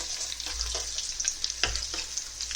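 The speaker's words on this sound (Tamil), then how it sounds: "சிக்கன் பார்த்தீங்கன்னா ஒரு பக்கம் பொரிஞ்சிட்டு இருக்குது." Chicken Kiev frying in oil on one side makes a bright, crackling sizzle with scattered pops and a few soft low bumps, close and steady, with no speech.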